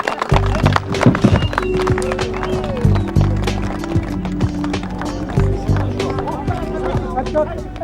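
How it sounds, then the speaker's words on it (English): Horses being released into a new home in open country, with hooves thudding and running across the ground while a low rumble and some voices sound underneath throughout. "the first horses are blessed and then released into their new home"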